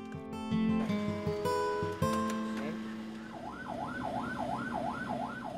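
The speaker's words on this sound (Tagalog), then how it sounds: "inilipat naman si Delphine sa isang ambulansya." A wailing siren rises and falls in steady cycles, moderately distant, following a burst of other tonal noise and vehicle sounds.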